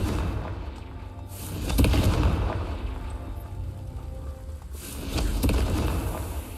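Heavy booming blasts from an explosive spell in the video game Hogwarts Legacy: two deep rumbling explosions a few seconds apart over a dense low background.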